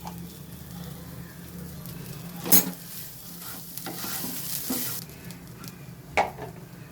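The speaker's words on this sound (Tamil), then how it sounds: "பொன்னிறமாக வறுத்துட்டு அதுக்கப்புறம் தேங்காய் போட்டுக்கலாம்." Grated coconut fries in a pan for mint chutney, giving a steady sizzle while a spoon stirs and scrapes, with a few sharper knocks against the pan, near and fairly quiet, with no talking.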